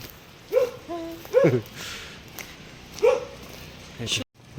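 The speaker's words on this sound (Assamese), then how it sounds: "কুকুৰ আছে" A dog barks three or four times in short separate yelps at moderate distance, with quiet outdoor background between barks, on a street in Dharamshala near the HPCA stadium.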